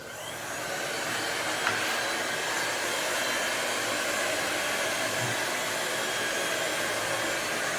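A heating tool blows a steady, loud whooshing roar without a break while it warms wallpaper near the trim and wall, with no talking.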